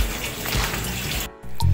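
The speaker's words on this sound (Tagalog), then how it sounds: "at ito nalagyan na natin tubig" Water pours into a new 75-gallon aquarium tank being set up, a loud, continuous gushing splash that breaks off briefly near the end before surging back.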